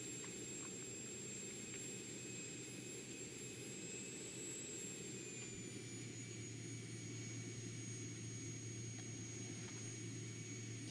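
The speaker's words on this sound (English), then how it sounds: "We'll go ahead and do a rolling takeoff to the north on runway 35 Tepwa." Steady jet engine roar of a Vision Jet on a rolling takeoff from runway 35 in the X-Plane 11 flight simulator, a loud continuous drone with rising high whine tones and no voices.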